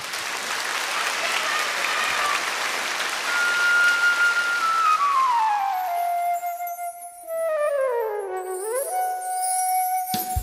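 A crowd claps steadily and loudly for several seconds at a televised school singing contest, then the applause fades as a bright, sustained musical tone rises and bends over it.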